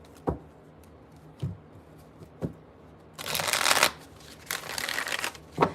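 Tarot cards being shuffled by hand in a quiet room: a few sharp single card taps, then two longer bursts of riffling, close and fairly loud, with no talking.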